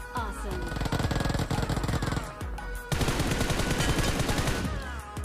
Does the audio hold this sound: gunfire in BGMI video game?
yes